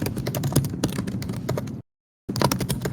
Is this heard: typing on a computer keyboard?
yes